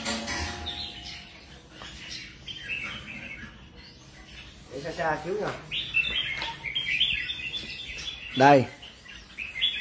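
A caged songbird sings in bright chirps and short trilled phrases, some clear and close. Someone talks intermittently over the birdsong.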